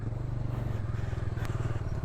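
Brief, close, steady low thrum of a Bajaj Dominar motorcycle engine running on an off-road track, with a light rattle over the rumble.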